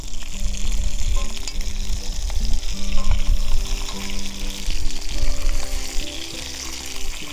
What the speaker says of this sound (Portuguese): Vamos deixar a carne então tostar bastante bem.